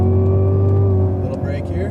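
A Cadillac CTS-V on a track runs with a loud, steady engine drone from inside the cabin as it shifts up a gear, the pitch holding and then easing off slightly.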